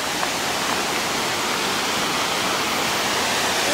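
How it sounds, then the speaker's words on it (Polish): A waterfall beside the road to Geiranger in Norway roars in a loud, continuous rush of falling water that fills the whole short stretch without any break. "Idziemy zobaczyć kolejny wodospad po drodze. Już to słyszymy."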